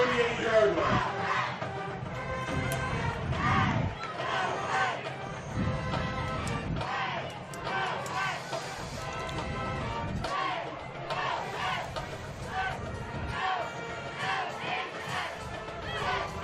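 Crowd at a Logansport versus Marion high school football game, a loud, continuous roar of shouting and cheering voices from the stands that swells and dips throughout.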